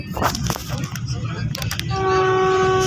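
An orange Vande Bharat express train rumbles along at around 110 km/h, steady and close, with a sustained horn tone sounding loudly toward the end.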